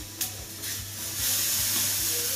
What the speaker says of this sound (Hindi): फिर गैस आपको इसमें थोड़ा सा पानी भी मिला लेना